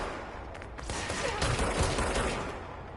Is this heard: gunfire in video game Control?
yes